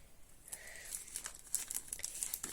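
Close, crisp crinkling of a plastic packet being handled, with irregular rustles and crackles growing denser toward the end.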